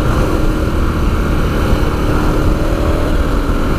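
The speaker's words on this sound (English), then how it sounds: "The engine on this really is something else." A KTM 1290 Super Adventure T motorcycle engine roars continuously and loudly up close, a dense steady drone with no pauses.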